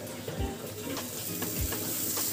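Masala with a pinch of turmeric frying in a pan for palak paneer, a steady close sizzle with a few soft scraping stirs of a spoon against the pan.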